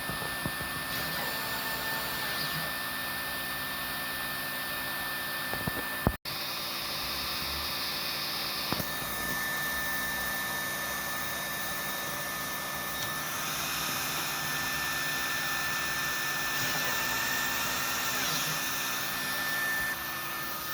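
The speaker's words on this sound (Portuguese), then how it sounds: "Vocês devem estar se perguntando por que a máquina está cortando absolutamente nada." A Two Trees TTC-450 desktop CNC machine runs a test cut in the air with nothing to carve, its spindle giving a steady, fairly quiet whining hum with a faint tone throughout and one sharp click near the middle.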